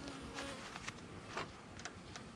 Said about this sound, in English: That bee did not like that.